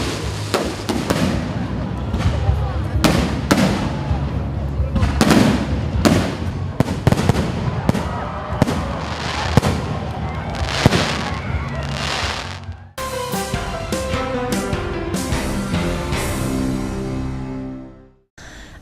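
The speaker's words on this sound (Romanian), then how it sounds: "S-a încheiat Ziua Republicii la orele 10 seara cu un foc multicolor de artificii." A multicolored fireworks display closing a Republic Day celebration at night: repeated sharp bangs and crackling bursts in quick succession, loud and fairly close, followed by a stretch of music before the sound cuts off.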